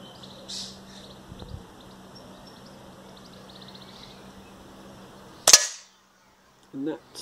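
A single sharp air rifle shot cracks out near the end during zeroing at 25 yards, loud and isolated against quiet outdoor background with faint bird calls, followed by a brief thud.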